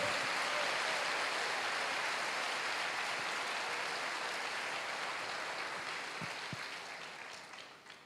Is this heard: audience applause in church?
yes